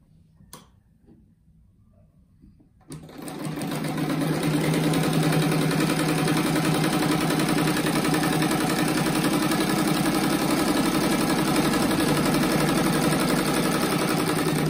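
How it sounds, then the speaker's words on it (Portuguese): A sewing machine starts after a quiet pause and runs steadily and close, with a continuous fast mechanical whir as it stitches a fabric strip for a cloth rug. "Já vou costurar a faixa dos dois lados"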